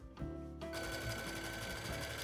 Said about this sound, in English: You can either use a serger or a zigzag stitch on your sewing machine.